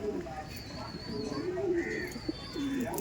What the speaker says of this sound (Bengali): এই দেখুন ওই সাইডে দেখুন কালদম ব্রিডিং করছে